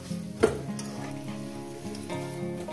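Potatoes frying in oil for a jackfruit curry made with goat fat, a steady close sizzle with a brief louder clink of stirring near the start, continuing without speech.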